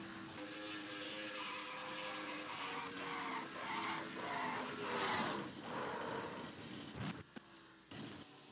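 Race cars skidding and spinning at Texas Motor Speedway in a racing video game, a sustained engine whine with tire squeal building, then sharp impact bursts near the end, loud and alone.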